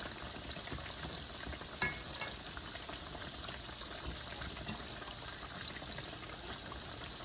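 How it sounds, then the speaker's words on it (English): Steady frying sizzle from thick-cut potatoes cooking in a pan, a continuous crackling hiss with one brief clink partway through, no voices. "And then we'll just keep on frying them."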